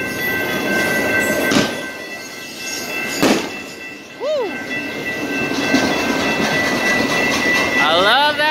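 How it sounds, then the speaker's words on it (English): Freight train cars, including hoppers, rumbling steadily along the track in Oceanside, a continuous loud rolling roar with metallic squeals and brief tonal wheel screeches toward the end; no talking. "I love that sound of the freight cars rumbling down the track"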